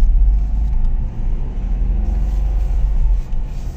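A car drives on after a U-turn on a quiet road, its loud, steady low engine and road rumble continuing unbroken with no voices.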